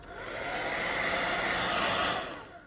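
A hair dryer blows steadily on a glass plate painted from the back with white paint, rising to a loud continuous whoosh that holds for about two seconds and then fades.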